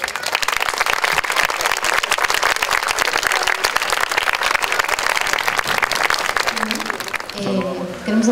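A hall audience at a percussion workshop in a Miraflores community centre applauds to welcome the mayor: dense, sustained clapping for several seconds that fades as a voice starts speaking near the end.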